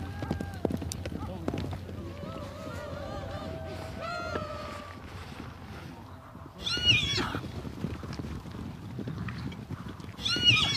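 Horses of the Mongolian steppe, with neighing and whinnying calls rising over a busy mix of hoof movement and ambient noise, louder bursts near the end.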